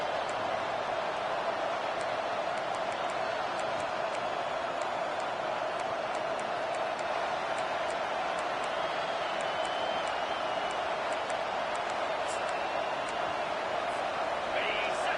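A packed football stadium crowd at a Michigan vs Colorado game keeps up a steady, continuous roar throughout, with a commentator's voice over it.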